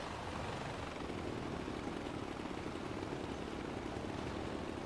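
Constant, broadband rotor and engine drone from a helicopter flying in the video game Far Cry 4, loud and unbroken throughout with no voices over it.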